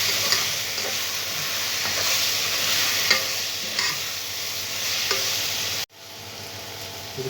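Coriander powder is stirred into a hot frying pan, giving a steady loud sizzle with scraping strokes of the spoon and a brief break near the end before the frying resumes.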